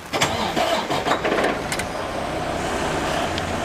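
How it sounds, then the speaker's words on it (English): A truck engine with a DT12 transmission clutch fault cranks over with a few sharp bursts, then catches and settles into a steady, loud idle rumble close by. "so start the engine."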